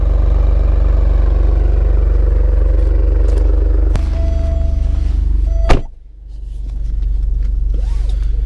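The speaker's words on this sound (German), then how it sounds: "Hier kann man auf jeden Fall schon hören, wie klasse schon im Stillstand entsprechend der V6 klingt" The V6 engine of an Alfa Romeo Stelvio Quadrifoglio idles at standstill with a deep, steady rumble, broken by a clunk and a brief dip before the idle returns.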